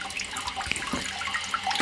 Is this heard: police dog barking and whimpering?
no